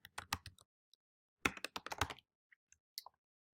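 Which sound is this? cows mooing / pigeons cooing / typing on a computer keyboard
typing on a computer keyboard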